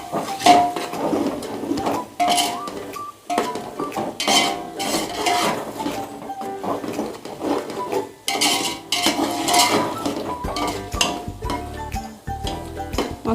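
A spoon scrapes and clinks against a metal cooking pot in irregular strokes as masala for mutton biryani is stirred, fairly close, with no talking.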